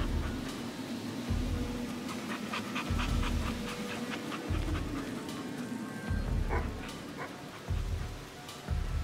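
Rhythmic, heavy dog panting in quick breathy bursts, close and steady across the stretch, with a few faint yips and whimpers mixed in.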